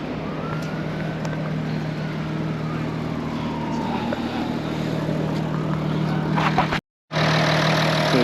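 A steady diesel engine hum from a 2014 Audi A7 Prestige TDI runs continuously with a low drone and broad noise, briefly cutting out near the end before resuming.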